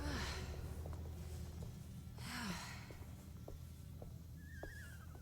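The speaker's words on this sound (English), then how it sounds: "Did I just hear a horse?" A horse whinnies in the horror video game Alone in the Dark, a faint rising-and-falling neigh under eerie ambient game sound with soft breathy sighs and scattered clicks.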